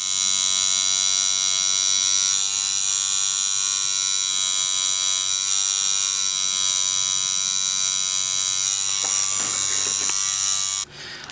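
Swingliner tattoo machine with an 11-liner needle running at five and a half volts, a loud steady electric buzz with a high whine that holds for about eleven seconds before cutting off sharply.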